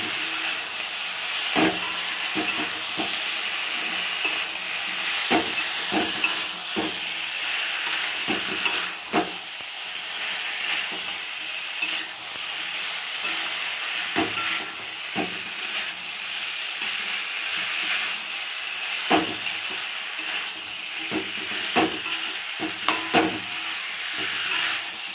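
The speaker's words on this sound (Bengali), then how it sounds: "মশলার সাথে ওলকপিটা ভালো করে কষিয়ে নেব" Steamed kohlrabi pieces being stir-fried with spices, a continuous sizzle with repeated scraping strokes of a spatula against the pan at an irregular rhythm, close and moderately loud, no talking.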